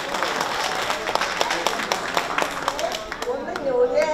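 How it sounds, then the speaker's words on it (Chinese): Audience applause at a commemorative Peking opera and ballet gala, brisk dense clapping that builds toward the end, with a voice speaking briefly over it. "来，掌声鼓励一下几位"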